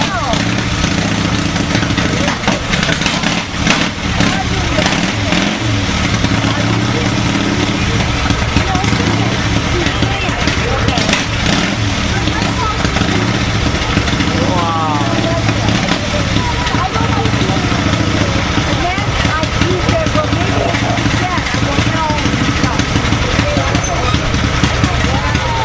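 A 1938 Harley motorcycle engine runs at a steady, loud idle throughout, a continuous mechanical chug with people talking over it.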